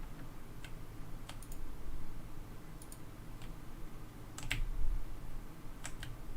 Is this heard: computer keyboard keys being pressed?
yes